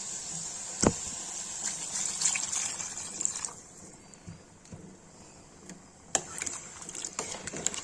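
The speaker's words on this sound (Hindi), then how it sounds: "गाइस देखिए भून गया, इसमें पानी डाल देंगे।" Water poured into a pan of frying soya chunk and potato curry, a loud hissing sizzle that drops off after a few seconds, followed by quieter bubbling and a couple of sharp clanks.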